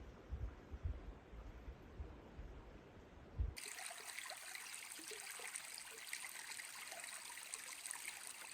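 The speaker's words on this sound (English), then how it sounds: "This is where Upper Lake Creek flows into the lake." Upper Lake Creek trickles and gurgles steadily where it flows into Packwood Lake, with a low rumbling wind-like noise at the start before the sound turns brighter.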